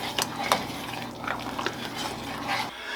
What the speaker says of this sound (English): I'm going to remove this from the heat and stir it for an additional 3 minutes.